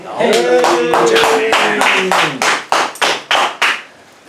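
A film crew applauds at a wrap on set, with voices over the start, then a run of single sharp claps at a steady pace, loud and close, tapering off toward the end.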